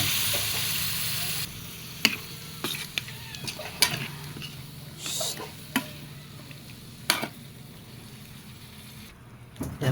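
Pork kaldereta sizzles steadily in a pan as soy sauce goes in, with a constant frying hiss and scattered clinks and scrapes of stirring against the metal.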